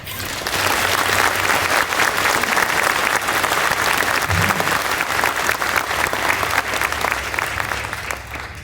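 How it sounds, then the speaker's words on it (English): Sustained applause from a large crowd at an infantry graduation ceremony, a steady loud wash of clapping that carries through the whole stretch with no talk over it. "Please join me in a well-deserved round of applause for the drill sergeant."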